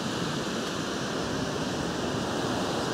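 Ocean waves breaking against a rocky coastline, a constant broadband roar of surf with no distinct individual crashes, steady and fairly close throughout.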